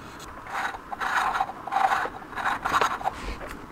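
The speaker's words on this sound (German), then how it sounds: "Jetzt nehmen wir die Schere und schneiden uns das obere und das untere Teil ab" Scissors cut through an old tin can in a series of rhythmic rasping, scraping snips, about five or six close strokes, loud and alone without talk.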